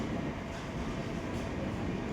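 The Sabari Superfast Express, hauled by a WAP-7 electric locomotive, rumbles past as a steady broadband roar of wheels and carriages, continuous and fairly loud throughout.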